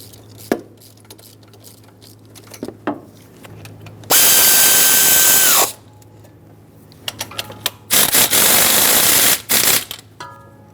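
A power tool snugs bolts on a 2003-2009 Dodge Ram 2500 5.7L V8 engine during a coolant temperature sensor replacement, with two loud whirring bursts and a few shorter ones between clicks and knocks of handling, no voices.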